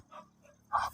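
A beagle pants in short breathy bursts, close by and fairly quiet, with a louder huff near the end.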